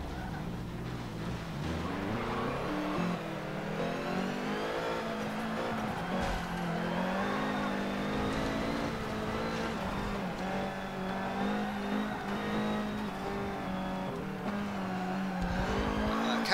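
A Peugeot race car in Forza Motorsport 7 accelerates hard, its engine note climbing and falling through gear changes with occasional tire squeal, loud and close throughout.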